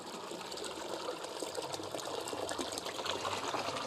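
Water pours into a homemade fish tank built for a submarine model, a close, splashing, gurgling stream that grows slightly fuller over a few seconds, with no talking.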